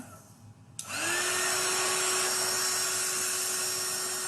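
A handheld heat dryer switches on abruptly and runs with a steady, loud whir and high whine, drying chalk paste on a craft door tag.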